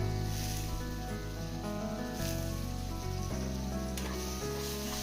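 Chopped potatoes hiss and sizzle as they go into hot oil and masala for a Maharashtrian batata rassa. The steady frying runs throughout, partly masked by loud tonal background music with changing notes.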